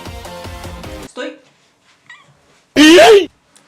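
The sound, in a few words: cat meowing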